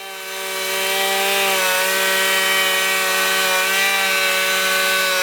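A Ridgid Octane 18-volt cordless hand planer, 3.25-inch, cuts across wood, its steady loud motor whine holding a constant tone after a quick spin-up, with no voices.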